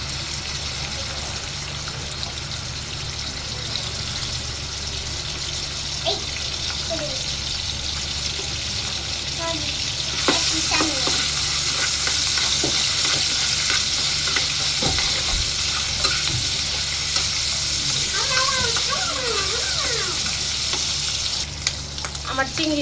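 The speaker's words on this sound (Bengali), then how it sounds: "এখন আমি চিংড়িগুলোকে ভেজে নিব।" Shrimp fry in hot oil in a kadai, giving a steady, dense sizzle with scattered stirring scrapes and clicks, close and continuous, with faint voices in the background.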